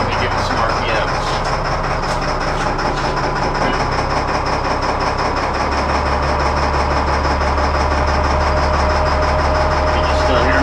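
A new boat's engine running loud and steady, its low rumble deepening and building as the revs rise partway through, with continuous mechanical noise and no talk.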